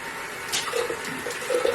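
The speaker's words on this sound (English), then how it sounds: "so we're just gonna splash with water." Water splashed onto a face at a bathroom sink during a morning skincare routine, a few short soft splashes over running water, close and alone.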